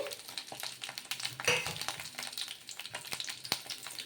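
Garlic and green chillies frying in a little oil in a pan, with a steady low sizzle and scattered crackles and stirring clicks, close and alone.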